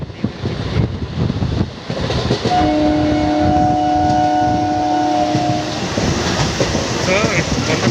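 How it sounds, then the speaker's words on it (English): An Indian Railways MEMU commuter train rumbles along near Bangalore, its steady running roar filling the whole stretch, while a long, clear horn sounds for about three seconds in the middle. "The train has already departed from Woody Halt"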